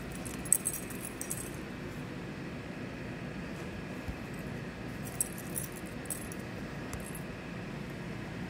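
Faint keys jangling as a cat carries them, scattered light metallic clinks and taps over a low steady room hum.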